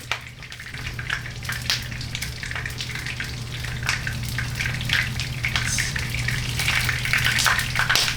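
Eggplant deep-fries in hot oil, giving a loud, steady, close bubbling sizzle that runs without a break, with a low hum underneath and no talking.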